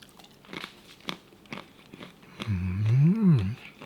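Roasted peanuts being eaten, with several soft crunchy bites at close range, then a louder, longer chewing stretch near the end.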